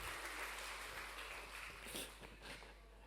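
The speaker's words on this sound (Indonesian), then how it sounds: "kita berikan tepuk tangan kepada anak-anak kita" A Sunday church congregation applauds the children: a steady, soft wash of clapping at a low, distant level for about three seconds, with no clear voices over it.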